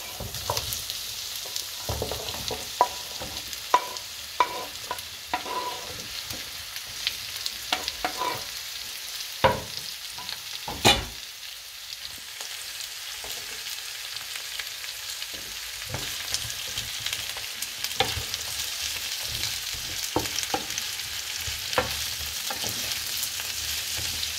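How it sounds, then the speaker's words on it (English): Onions and carrots sauté in a pan, a steady sizzle broken by frequent clinks and scrapes of a utensil stirring, moderately close with no talking. "I'll give the onions a quick stir and add the carrots."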